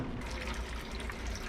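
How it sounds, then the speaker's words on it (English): Water draining at Gravity Hill along the Pacific Coast Highway, a steady close trickling and gurgling flow at constant level for the whole stretch, with no talking. "Looks like it's going uphill, but the water is still draining up."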